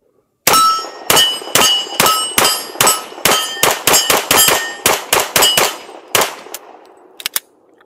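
A Bul Armory 5.4 Radical 2011 competition pistol fires at a range in a rapid string of about twenty loud, sharp shots with ringing metallic tails, followed by a few fainter clicks and clanks.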